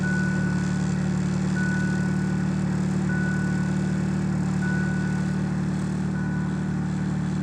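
Boosted car engine idling rich, running at 16 psi of boost, a loud, steady low rumble with an even tone throughout and no voices.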